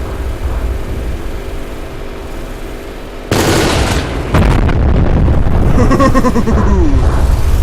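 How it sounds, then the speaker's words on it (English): Loud video-game explosions erupt after a low ambient stretch, one big blast followed by a dense roaring barrage of bursts and crackling debris that continues to the end. "Exploding people. That's what I like to see."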